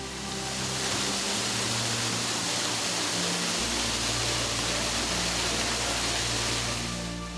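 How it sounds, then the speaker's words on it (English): A 33-foot tall waterfall in the Arkansas Ozarks roars as a dense, constant rush of falling water, loud and unbroken, with no voices. "This 33-foot tall waterfall is named after them."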